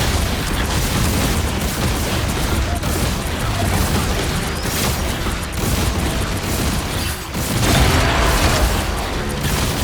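Bombs going off in the superhero shooter Marvel Rivals: a dense, continuous roar of booms and blasts fills the whole stretch, loud and close, with no clear break between hits.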